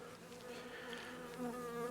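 Honeybees buzz in a steady, close drone at an open beehive that hums without pause, with no voices.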